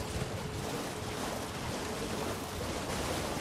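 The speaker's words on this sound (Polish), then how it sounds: "Tam jakiś wodospad jest też." A waterfall by the Siofra River in the video game Elden Ring gives off a steady, dense rushing roar, even and unbroken throughout, with no voices.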